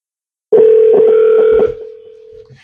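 Telephone dial tone sounding loud and steady for about a second while calling someone back, with a few faint dialing blips over it, then dropping to quiet line noise.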